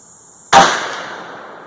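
A single .450 Bushmaster rifle shot fired in a hollow: one sharp, loud report up close followed by a long, fading echo.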